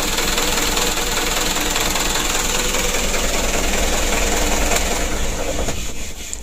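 Worn tour bus diesel engine burning oil, idling loud and close with a steady rough clatter and knock that fades slightly in the last second.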